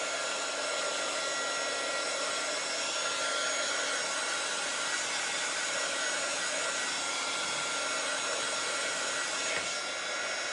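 A heat tool blows steadily onto drying paint on a metal baking pan sign craft, a continuous loud whooshing hum that stays constant throughout, with no talking.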